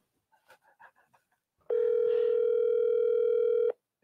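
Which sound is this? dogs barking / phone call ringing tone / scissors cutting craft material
phone call ringing tone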